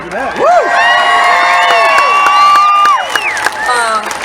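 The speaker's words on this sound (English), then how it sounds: "Yeah, cheer." Crowd at a fairground concert in Iowa cheering loudly, with whoops, shouts and clapping rising and falling for several seconds, near and energetic, with voices calling out among the crowd.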